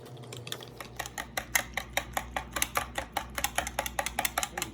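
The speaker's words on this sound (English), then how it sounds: "So I'm going to stir it for a little bit." A whisk beats a creamy ranch-like secret sauce for shrimp tacos in a bowl, giving quick regular clicking strokes, about four per second, close and fairly quiet with no talk.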